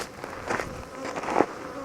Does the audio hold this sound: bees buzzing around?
yes